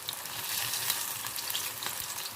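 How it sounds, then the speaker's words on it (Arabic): Eggplant fries in a burnt pan on the stove while it is stirred, giving a steady, dense sizzle with scraping stir noises, close and loud with no speech. "طبعا انا كده هقلب البتنجان بتاعي في الطاسه المحروقه بتاعتي"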